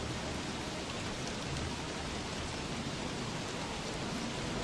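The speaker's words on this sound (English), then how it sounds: "Wow, it's so raining, it's unreal. Just hammer it down." Heavy rain in the video game Don't Starve Together, a constant dense hiss of downpour filling the scene evenly from start to finish with no talking.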